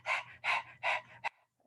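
A person imitates a dog panting as a breathing exercise, three quick, loud breathy huffs close to the mic, with a short fourth puff and then quiet.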